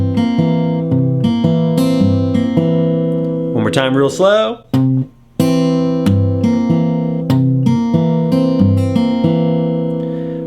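Fingerstyle blues guitar played with a criss-cross Travis picking pattern, plucked notes alternating over a steady thumbed bass in an even rhythm, close and clear; someone speaks briefly in the middle before the picking resumes slowly.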